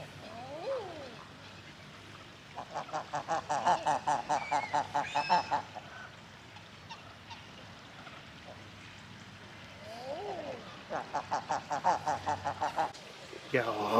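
Geese honking at Martin Mere wetland reserve, two bursts of rapid repeated honks and calls nearby, with quieter gaps between and some faint background bird sounds.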